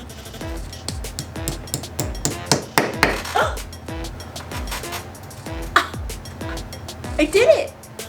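Hammer driving fasteners to hold a vapor barrier in a basement, a steady series of sharp close blows with metallic ringing, then a person speaks at the end.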